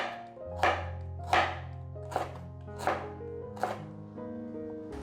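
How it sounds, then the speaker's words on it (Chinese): A knife slices ginger on a cutting board with about six crisp, evenly spaced chops, close and clear over steady background music. "把姜切片。"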